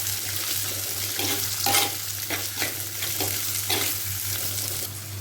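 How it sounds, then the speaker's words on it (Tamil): Onions and garlic sauté in hot oil, a continuous close sizzle with repeated scraping stirs of a spatula against the pan and a low steady hum underneath, no voices. "இப்போ தேவையான அளவு உள்ளி, வெங்காயம் போட்டுட்டு அதையும் நல்லா எண்ணெயில் ஒரு வாட்டி வதக்கி விட்டோன்னா"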